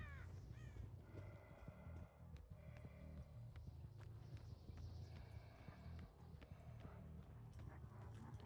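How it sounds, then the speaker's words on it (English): Crows caw repeatedly in a video game, mixed with horse hooves clip-clopping and occasional whinnies, all faint and busy in the background. "We do see crows, I'm going to assume."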